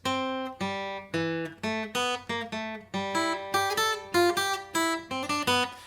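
A plucked string riff of short, crisp notes in a quick, bouncing rhythm, each attack ringing briefly before the next, played alone and fairly close.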